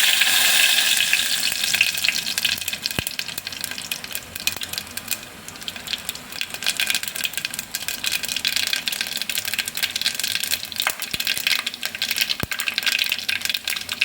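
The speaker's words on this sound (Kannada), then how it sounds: "ಈಗ ಎಣ್ಣೆ ಕಾದಿದೆ. ಈಗ ಸಾಸಿವೆ, ಜೀರಿಗೆ, ಮೆಣಸು 3 ಹಾಕ್ಕೊಬಿಡೋಣ." Mustard seeds, cumin and black pepper crackling in hot oil for kara pongal, a loud, close, continuous sizzle with sharp pops and spits scattered throughout and no talking.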